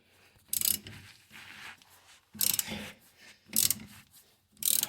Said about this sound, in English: So that way I know how many turns I'm going actually with my socket and nut while I'm torquing it out.